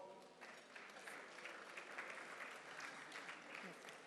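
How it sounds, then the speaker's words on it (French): Applause from an audience at the Ebony 2017 awards ceremony as a presenter is called up, a faint, steady wash of many hands clapping heard from a distance, evenly sustained throughout. "sous vos applaudissements"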